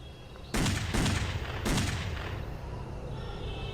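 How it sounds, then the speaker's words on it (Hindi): A grenade detonates in a horror video game, with three heavy booming blasts in quick succession, the later ones slightly spaced, each followed by a rumbling decay that lingers under steady background noise. "अबे ग्रेनेड मार के उड़ा दिया मेरे को भाई साहब।"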